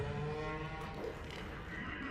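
Sea cow creature call from the underwater survival game Subnautica, a drawn-out, moaning animal cry with a horse-like whinny quality, fairly loud and steady through the whole stretch with no talk over it.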